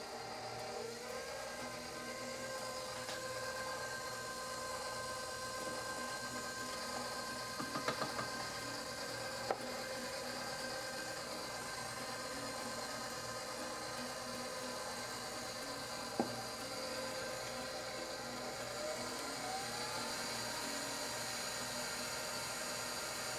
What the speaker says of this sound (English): We're going to reduce the speed on the mixer to low, and we're going to incorporate our milk and our vanilla.